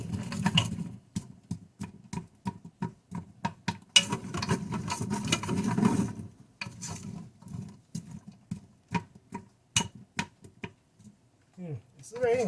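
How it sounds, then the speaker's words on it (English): Rain falling outside a home backyard patters as a run of sharp, irregular drips and taps, close and fairly distinct, sometimes bunching into quick clusters with brief lulls between. "It's raining outside."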